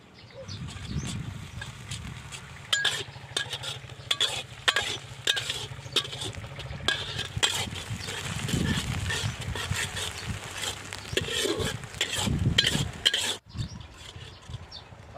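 Ginger, garlic and chili paste sizzles in hot oil with reddening onions while a spoon scrapes and stirs the pan in repeated strokes, close and clear, with intermittent voices talking over the cooking.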